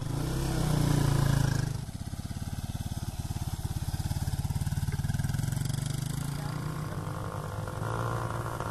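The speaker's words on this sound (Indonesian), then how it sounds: "Pria-pria ini diajari cara mengemudi motor." A motorcycle engine runs steadily with a rapid, even pulsing as men learn to ride motorbikes. A louder burst comes first, then the engine settles into a close, continuous putter with no talk.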